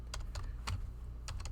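Typing on a computer keyboard while entering AutoCAD command-line options, a few quick bursts of soft key clicks with short pauses between them, close and fairly quiet.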